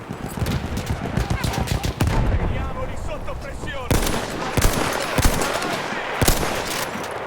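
Video game Battlefield gunfire: bursts of automatic and single shots crack repeatedly, some close and loud, others more distant, with a voice speaking between volleys.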